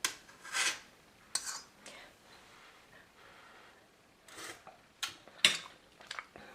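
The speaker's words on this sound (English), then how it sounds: "Give this a stir." A spoon stirring Chamorro corn soup in a pot, a few scattered scraping and rubbing strokes with quiet gaps between them, close by and fairly soft.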